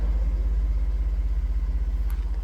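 A car engine idles steadily at close range while warming up after an oil change, a low even rumble with a faint rhythmic pulse and no talking.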